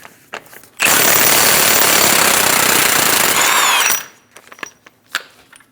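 An impact tool on a 35mm socket spins off the front axle nut of a 2001-2006 Chevrolet Silverado 2500 HD, one loud sustained burst of about three seconds, close up, with light clatter before and after.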